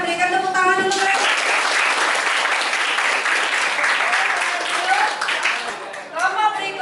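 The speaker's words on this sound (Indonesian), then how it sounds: "Berikan tepuk tangan untuk mereka." A classroom of students bursts into sustained, dense applause for a presenting group, loud and close, with a teacher's voice briefly heard before and after the clapping.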